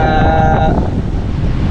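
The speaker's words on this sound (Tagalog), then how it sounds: "pasensya na, medyo mahangin, malasang hangin dito mga kawa" Strong wind buffeting a microphone outdoors, a loud low rumble that stays constant, with a faint tonal hum fading out early.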